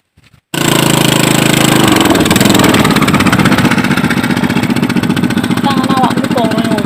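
A loud motorcycle engine starts abruptly and runs at a steady, rough idle, filling the clip, with faint chirps near the end.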